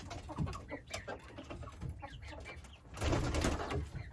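Chickens clucking and squawking close by, with busy overlapping bird calls that swell louder and denser toward the end.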